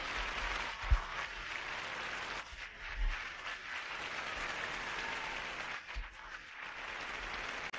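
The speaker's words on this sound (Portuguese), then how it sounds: "O Chapolin Colorado, recebendo os aplausos do público" A studio audience applauds Chapolin Colorado on a live television show, a fairly soft, continuous patter of clapping broken by a few low thumps, with no voices over it.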